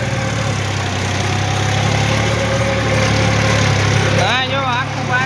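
A forty-horsepower tractor engine runs steadily nearby with a deep, even rumble, and a voice rises briefly over it near the end.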